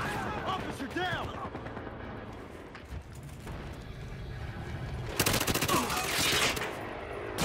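Glock pistol fire and other gunfire in the police-and-criminals shooter Battlefield Hardline, a steady clatter of shots throughout with a dense burst of rapid fire near the end, mixed with game noise and occasional talk.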